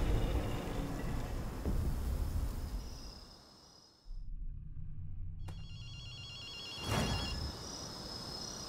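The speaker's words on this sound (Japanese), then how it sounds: "電話の音が聞こえないか。" In GhostWire: Tokyo, an old-style telephone bell rings with a brief shrill trill above a dense, murky game ambience that dips and swells.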